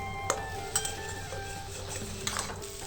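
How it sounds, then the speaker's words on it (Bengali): Ground chili, turmeric and cumin fry in a pan while a spoon stirs them, with a few metal clinks and scrapes over a low, steady sizzle. "নেড়ে চেড়ে মশলা কষিয়ে নেব।"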